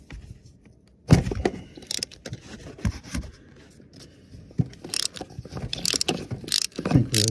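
Close socket wrench ratcheting on an oil pressure sensor of a GMC, a series of quiet clicking strokes with a few louder jolts as it works loose.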